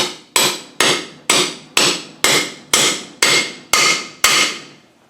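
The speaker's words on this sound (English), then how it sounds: "we might as well tap that oil seal in" Ten sharp metallic hammer taps driving an oil seal into a Land Rover LT230 transfer case, in a steady, even rhythm, each ringing briefly before the next strike, close and loud with no talking.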